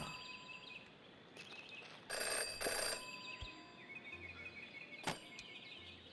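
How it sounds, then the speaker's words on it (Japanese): Telephone ringing in the video game Jenny LeClue, two short bursts of electronic ringing over a quiet ambient room bed, followed later by a single sharp click. "Jenny had learned never to ignore a ringing phone"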